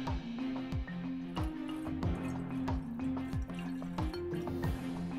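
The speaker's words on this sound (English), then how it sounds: "We're gonna add the hot water here." Hot running water splashes and drips into a wash container while someone prepares to wash their hands with soap, a steady trickle broken by irregular plops and splatters.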